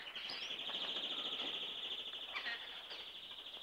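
Pet birds in a house chirp and tweet in a steady, shrill, high-pitched stream, fairly close and without speech, faint overall.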